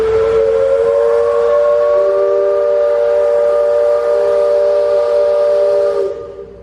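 Steam train whistle at the Magic Kingdom theme park in Walt Disney World as the park train prepares to depart, a loud sustained chord-like blast of about six seconds that fades at the end, with no speech over it.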